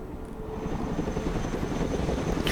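A Chinook helicopter in a video game drones with a steady thumping rotor and engine roar, close and continuous throughout.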